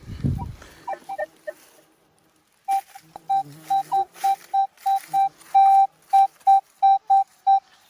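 A metal detector signals buried metal during a field dig, sounding a run of about fifteen short, clear electronic beeps in a steady rhythm after a few fainter tones, with a handling thump at the start.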